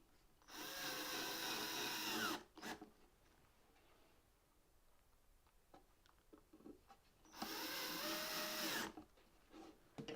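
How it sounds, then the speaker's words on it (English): An electric drill drives a screw into a wooden jewellery chest, two separate bursts of steady whirring, each roughly two seconds long, with quiet handling clicks in the pause between them. "If you overdo it with the electric drill, you'll find you'll strip your thread."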